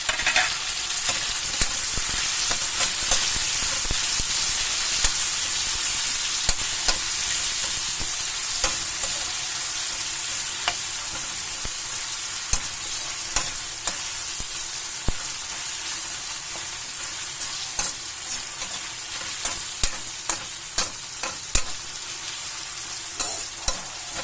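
Garlic, onion and tomato sauté in a pan with a continuous close sizzle, broken by frequent sharp clicks and scrapes of a stirring spoon.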